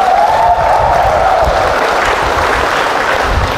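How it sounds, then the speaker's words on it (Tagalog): Applause from a church congregation in Alaminos, Laguna, a steady wash of clapping hands that holds at an even, fairly loud level throughout, with faint crowd murmur underneath. "Yung mga malalakas na pumalakpak yan"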